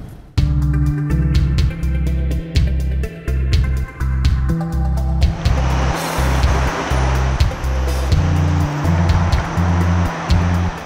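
Bangkok road traffic makes a steady, loud roar that swells into broad noise in the second half, with sustained music tones playing over it throughout.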